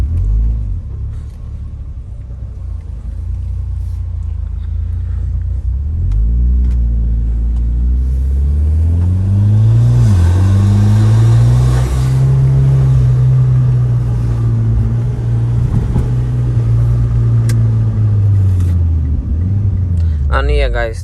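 A Mitsubishi Lancer Evolution X MR with an automatic SST transmission pulls away, its engine rumbling deep and rising in pitch as it revs and shifts, heard from inside the cabin over about twenty seconds.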